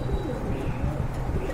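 A pair of satin pigeons coos softly and steadily, low rounded calls repeating close by with no talk.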